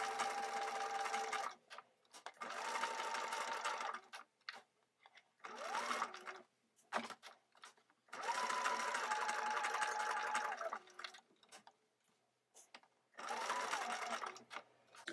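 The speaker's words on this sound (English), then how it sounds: "pivot to stitch around the curved line to center front" A sewing machine stitches a curved collar line on tiny doll clothes in four close bursts of whirring, each lasting a few seconds, with brief pauses between them for pivoting and no voice over the stitching.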